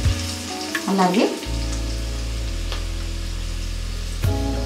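Chicken frying in a pan with curry leaves, a steady soft sizzle running under loud sustained tonal music-like hum, with a brief sweeping tone near the start.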